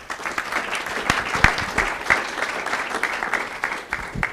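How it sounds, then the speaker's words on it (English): An audience at a session panel on learning with physical systems applauds the session speakers, steady dense clapping throughout with occasional sharper individual claps, fairly close, no voices. "Let's give a round of applause to all the speakers from today"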